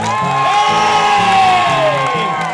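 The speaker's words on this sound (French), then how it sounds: "je voudrais un tonnerre d'applaudissements, s'il vous plaît" An audience at a Corsican association gathering cheers and whoops loudly, a dense crowd roar with some scattered clapping beneath over a steady musical backing.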